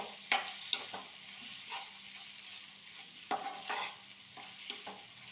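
Fresh turmeric roasting in ghee over a low gas flame, a faint quiet sizzle with intermittent soft stirring scrapes and a few light utensil taps.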